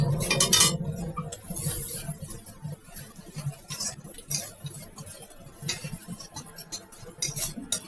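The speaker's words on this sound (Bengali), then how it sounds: "ভালো করে কষিয়ে নিচ্ছি।" Ghugni masala with green chillies is sautéed in a pan, the spatula clinking and scraping against the metal in a steady, irregular rhythm, close and moderately loud, with a faint background hiss.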